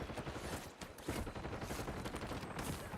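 Rapid video game gunfire crackles continuously, dense bursts and volleys layered over one another with no pause, loud and close throughout.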